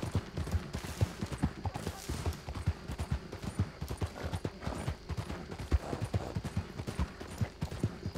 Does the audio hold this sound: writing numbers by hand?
no